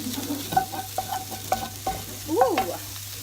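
Onions and ginger fry in a pan while a utensil scrapes and stirs them in short repeated strokes, with a soft sizzle underneath and no one talking.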